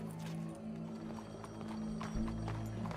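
Horse hooves clip-clopping at a walk in Red Dead Redemption 2, with an occasional whinny, set against a steady low ambient rumble; the steps are moderately close and continuous, with no talk over them.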